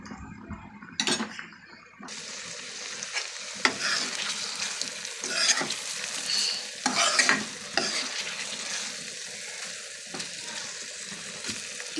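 Chicken sizzles slowly in ghee in a pot, a steady close frying hiss with occasional stirring scrapes and clinks of a utensil against the pan, no voices.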